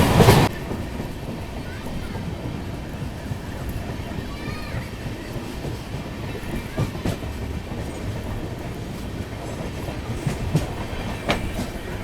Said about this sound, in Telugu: సో పెరంబూర్ దాటంగానే మన సప్తగిరి ఎక్స్ప్రెస్ అయితే 120 లిమిట్లో పరిగెడుతున్నాడు